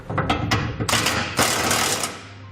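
A tool tightens new nuts with a 3/4 inch socket, fastening a Curt trailer hitch receiver to a 2016 Ram 1500. Rapid, close mechanical buzzing and clattering comes in a few bursts, with no talk.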